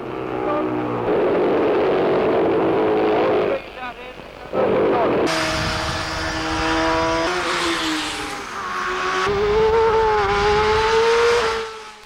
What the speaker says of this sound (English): coming up to Shaw's corner now is a Cooper Norton, number 7